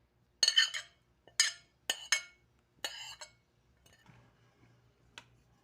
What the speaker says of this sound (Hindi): मिक्स करके दिखाती हूँ।